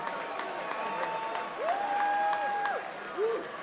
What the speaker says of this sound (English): ladies and gentlemen, a big round of applause, please, for both these men after three excellent rounds of action